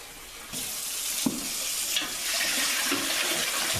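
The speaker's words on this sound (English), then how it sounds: "You're gonna wanna fill it up with water." Tap water pours steadily into a stockpot of bones for bone broth, a continuous splashing rush that swells after a brief quieter start and carries on close and unbroken.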